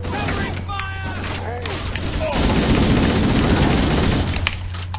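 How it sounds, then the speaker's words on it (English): Gunfire in the Halo CE video game comes as bursts of rapid fusillade, growing denser and louder in the second half, mixed with game effects and voices. "I'm just going to shoot you"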